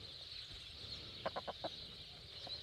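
Chickens, including young golden hens, giving four quick soft clucks in a row, faint against a steady background hiss, with one more cluck shortly after.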